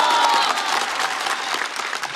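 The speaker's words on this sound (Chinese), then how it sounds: "掌声欢迎险中求生的管乐。" A studio audience on a Chinese roast comedy show bursts into steady, loud applause to welcome a guest, a dense sustained clapping with no speech over it.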